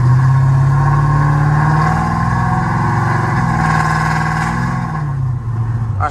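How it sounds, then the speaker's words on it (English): Steady loud car exhaust drone from close inside a car driving in the rain on a highway, a low engine hum holding with slight pitch shifts and no talking. "I hate this freaking exhaust"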